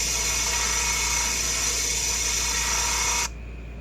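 Sanding of a wooden sheet, a loud, steady, hissing power-tool drone that holds evenly for about three seconds and then cuts off abruptly, leaving a quieter hum.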